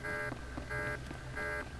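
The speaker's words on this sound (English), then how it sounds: "you guys could shut off that alarm" An alarm in the video game Star Wars The Old Republic sounds as a repeating electronic buzzer tone, pulsing on and off about every half second over a steady background hum.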